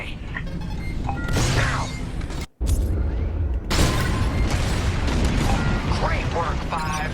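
Bombs dropped during a space-combat mission in the Star Wars: Squadrons video game go off in heavy booming blasts, broken by a brief dropout, with squadmates talking over the rumble.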